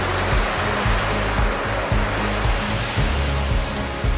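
Busagak Falls in Pinamungajan, Cebu, roars as a loud, steady rush of falling water close by, with a continuous broadband wash and rhythmic low pulses, and no voices.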